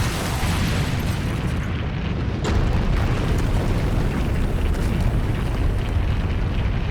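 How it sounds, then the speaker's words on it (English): Zombies exploding one after another in the Tsukihime: A Piece of Blue Glass Moon video game, a dense, continuous roar of blasts with no gaps between them, loud throughout and growing slightly heavier partway through. "they detonate in rapid succession"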